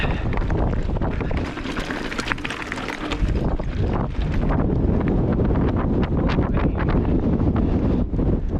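Strong wind at a mountain bike trail viewpoint roars and buffets against the microphone in continuous loud gusts, with no talking.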